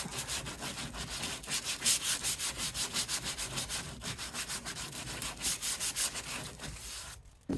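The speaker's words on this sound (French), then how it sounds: "je vais venir un peu poncer ce qui dépasse, les petits copeaux de plastique." Plastic shavings are sanded off a kayak hull protector by hand in quick, rhythmic back-and-forth rubbing strokes, close and steady, ending abruptly.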